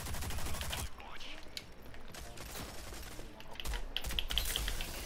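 Gunfire in the video game Rogue Company arrives as a loud burst of rapid shots up front, then continues as sharp, scattered cracks and quick volleys over a quieter background.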